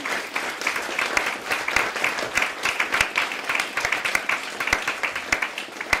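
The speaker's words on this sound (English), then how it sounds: "Can we get another big round of applause for all of our speakers?" An audience at a symposium on youth-led programming applauds its speakers at the end of a session, giving dense, continuous clapping that stays even and full throughout.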